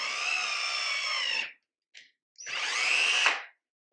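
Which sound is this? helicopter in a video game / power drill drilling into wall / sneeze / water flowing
power drill drilling into wall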